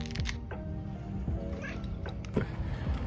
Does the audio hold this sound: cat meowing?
yes